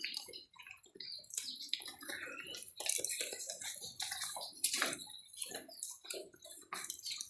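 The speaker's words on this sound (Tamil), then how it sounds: "இது பாருங்கள் எப்படி மழை தண்ணி ஊற்றுது" Rainwater pours and splashes in an estate home garden, an uneven close stream of gushing and dripping water with irregular bursts, no talking.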